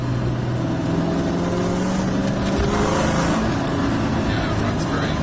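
A 1998 Mustang SN95 with the 4.6 engine and a manual ECU installed drones steadily from inside the car while driving, a constant loud engine and road rumble with people talking over it.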